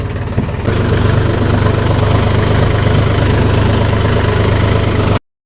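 A tractor engine on a farm runs loud and steady after a brief start, a constant close low rumble with no talk, cutting off abruptly at the end.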